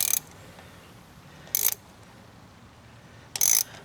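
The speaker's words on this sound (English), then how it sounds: "7/16 ratchet in the socket. We'll use that." A 7/16 socket ratchet working on the fuel inlet elbow of a Harley carburetor gives three short, separate bursts of clicking, each lasting about a quarter second, with quiet pauses between them and no talking.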